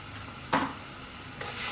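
Ground turmeric, salt, cumin and chili sautéing in a pan with a soft steady sizzle, two sharp bursts of stirring scrape breaking through, no voices.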